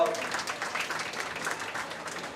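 A crowd's applause at a county fair livestock show rises and continues steadily for a couple of seconds, with a voice faintly underneath.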